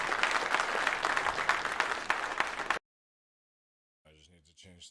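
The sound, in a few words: applause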